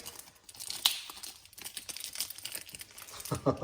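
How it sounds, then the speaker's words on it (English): Unwrapping a heavily taped mail package, with close crinkling and crackling of wrapping and tape in irregular bursts, a sharp tearing rip near the start and louder rustling at the end. "Just need to unwrap it once again because we got so much wrapping in here."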